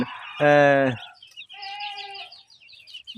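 A broiler chicken on a rooftop farm squawks loudly and briefly, then softer clucking follows with tonal calls, close by and otherwise quiet.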